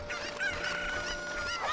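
Chickens in Ocarina of Time give short squawking, honking clucks that rise and fall over a steady high tone, quiet and close with no speech.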